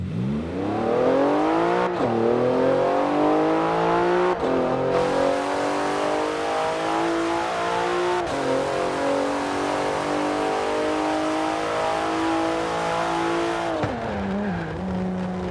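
A Porsche engine in the racing game Forza Horizon 4 revs hard and continuously, its pitch climbing and dropping sharply at gear shifts, loud and close with faint tire squeal, no talking.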